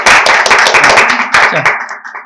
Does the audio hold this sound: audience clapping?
yes